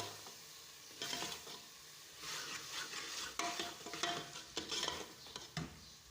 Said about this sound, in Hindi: अच्छी तरह से भून लेंगे इसे।